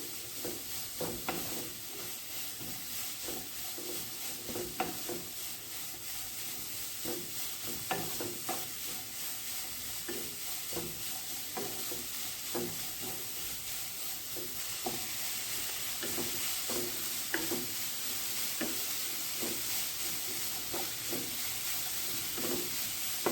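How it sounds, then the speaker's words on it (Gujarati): Grated carrots for gajar kheer sauté in a pan with a steady, soft sizzle. Frequent light stirring clicks and scrapes come through, fairly quiet and continuous throughout. "થોડાક નરમ થઈ જાય ને ત્યાં સુધી આપણે આવી રીતે સાતળી લઈશું"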